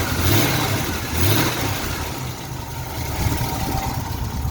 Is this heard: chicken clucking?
no